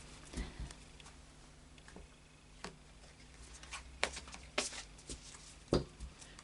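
Cards of a Sacred Traveller oracle deck are shuffled by hand in scattered soft riffles and taps, several quiet, irregular bursts of papery slapping close to the microphone in a still room.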